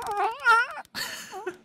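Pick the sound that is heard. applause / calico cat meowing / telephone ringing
calico cat meowing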